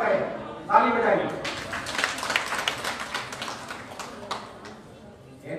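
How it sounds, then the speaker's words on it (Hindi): Audience clapping at a large community gathering in Haridwar: dense, fairly loud applause swells after a brief voice and holds steady for several seconds before tapering off. "ताली बजाइए।"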